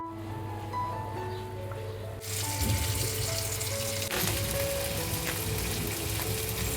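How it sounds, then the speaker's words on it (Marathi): Dried mandeli fish tipped into a pan of sizzling, sautéed gravy for a Maharashtrian curry, with the frying suddenly jumping louder and steady, crackling sizzle continuing close up with no talk. "आता वरतून आपण ही सर्व मांदेली घालून घेतोय."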